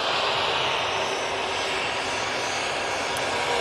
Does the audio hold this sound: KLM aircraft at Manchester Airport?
yes